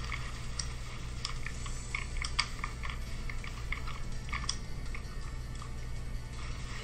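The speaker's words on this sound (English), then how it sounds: "I can hear your keyboard." Computer keyboard typing during a competitive online game match, a steady patter of light clicks at close range over a constant low hum, with no voices.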